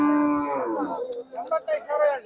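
A buffalo at the Chitradurga cattle market lets out a long, loud, low moo up close, and voices follow it.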